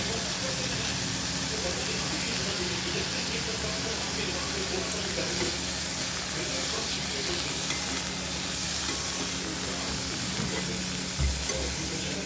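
Vegetables sautéing in a pan for an umbar fig curry, a dense continuous sizzle and hiss with stirring underneath, close and steady throughout.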